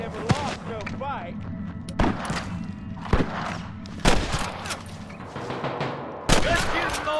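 Gunfire in the Western video game Red Dead Redemption: a handful of sharp, loud shots spaced irregularly about a second apart, with shouted voices and background noise between them.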